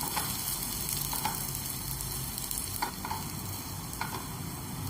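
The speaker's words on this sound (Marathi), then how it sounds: "कलर चेंज होईपर्यंत आपण याला व्यवस्थित भाजून घेऊया।" Sliced onions frying in a pan for chole masala, a steady close sizzle with a few brief stirring scrapes of a spoon, no voices.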